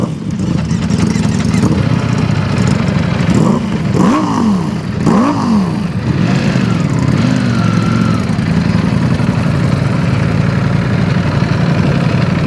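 A Ducati Panigale V4S fitted with a CS Racing exhaust idles loudly and steadily close by, with a couple of quick throttle blips rising and falling in the middle.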